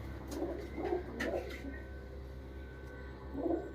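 A racing pigeon coos nearby in a short series of soft, throaty calls, pausing, then cooing once more, over a low background hum.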